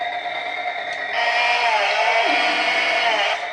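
A Stihl chainsaw engine idles and then revs up slightly, a steady buzzing drone that stays at moderate level for a few seconds with no talk over it.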